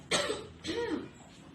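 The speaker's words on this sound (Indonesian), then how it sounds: "Maaf Ibu lagi batuk." Two close coughs in quick succession, the first sharp, the second rougher and drawn out.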